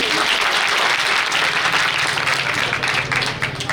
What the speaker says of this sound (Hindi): इतनी तालियां तो डिजर्व करता हूँ कि थोड़ी थोड़ी तालियां मुझे भी मिलती है।